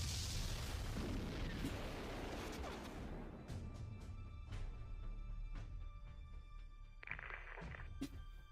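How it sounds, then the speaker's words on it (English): Artillery shells burst in a military video game during an air-support radar strike, a dense rumbling barrage for the first few seconds, then scattered sharp booms and cracks over a low continuous roar. "Watch out for the artillery."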